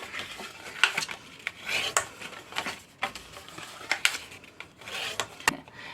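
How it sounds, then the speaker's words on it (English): Paper being folded along score lines and burnished, heard as soft, close rubbing and scraping strokes with sharp little ticks and creases, arriving in an irregular rhythm with no talk. "I'm going to fold and burnish all these score lines"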